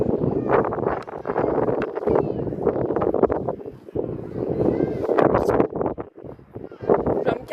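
Gusty wind buffets the microphone in an open flower field at a flower festival, a steady rough rumble swelling and easing throughout, with people talking over it.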